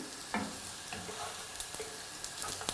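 Eggs cook in a pan into an omelette-like dish, a soft continuous sizzle with scattered taps and scrapes of stirring, fairly quiet and close.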